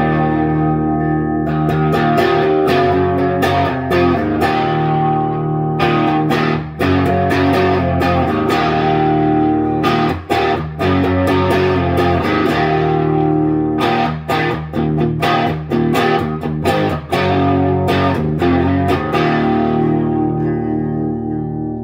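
A Kramer Baretta Special electric guitar through a DSL-40 amp on the clean channel, gain turned low, crunches anyway. Strummed chords ring out loud and close with sharp rhythmic attacks and no talking.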